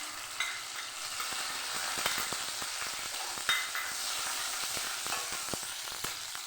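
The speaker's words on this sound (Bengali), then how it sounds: "এটা ভালোভাবে ভেজে নেব।" Chopped raw garlic frying in oil in a pan for a Bengali red amaranth curry, a steady soft sizzle with occasional stirring scrapes and light clicks, no voices.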